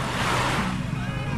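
Sea waves wash onto a beach at San Pedro, Romblon, a continuous close roar of surf mixed with wind buffeting the microphone.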